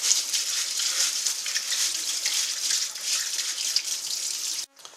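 Tap water runs steadily into a special rice strainer as rice is washed in a home kitchen, a continuous broadband hiss and splash that stops abruptly near the end.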